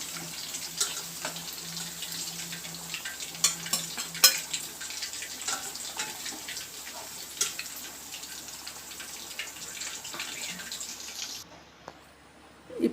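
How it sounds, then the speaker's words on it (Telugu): Stingray fish pieces frying in a pan of hot oil, a continuous close sizzle with scattered crackles and a few louder spits, ending abruptly as the frying sound cuts off near the end. "ఈ మాత్రం ఫ్రై అయితే చాలు. ముక్క కొంచెం గట్టి పడితే చాలు, మరీ అవనవసరం లేదు."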